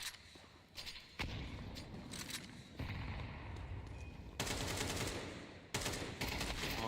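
Pistol gunfire in a Counter-Strike match at the B bomb site, with bursts of sharp shots and rapid volleys that come and go in clusters, at moderate loudness and with no speech.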